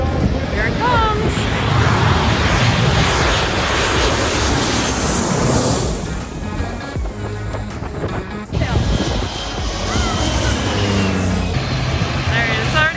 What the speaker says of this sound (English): There's one coming in right now. I don't know where it's coming from. I think it's coming from Atlanta. It's a big plane.